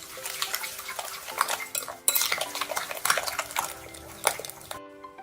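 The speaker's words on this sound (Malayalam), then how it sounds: "എന്നിട്ട് നന്നായി മിക്സ് ചെയ്തെടുക്കണം." Spoon clinking and scraping against a metal bowl while sugar and lemon juice are stirred together for a coffee dessert, rapid close clatter in uneven bursts with a short pause midway.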